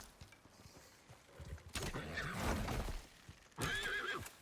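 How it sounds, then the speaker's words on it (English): A horse neighs in a survival video game: a whinny rises amid shuffling and clip-clop hoofbeats, followed by a second high neigh near the end, moderately close over quiet game ambience. "Oh, there's a horse."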